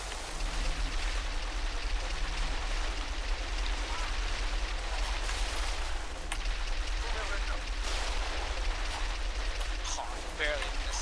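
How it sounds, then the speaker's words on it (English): A rocket launcher fires during a Halo: The Master Chief Collection multiplayer match, buried in a dense, continuous wash of game gunfire and explosive noise while players talk over it. "A rocket launcher."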